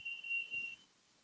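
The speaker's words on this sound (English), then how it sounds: "I hear beeping" A thin, high electronic tone beeps faintly in short pulses for under a second during a board finance committee meeting, then fades to near silence.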